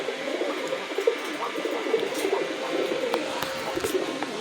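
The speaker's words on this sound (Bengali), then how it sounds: "কিছু দেশি গড়া কবুতর জোড়া হবে" Local deshi pigeons kept in pairs at a farm give soft, intermittent coos, mixed into a dense murmur of many birds and steady ambient noise.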